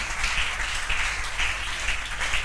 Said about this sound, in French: On acclame encore le Seigneur très très fort.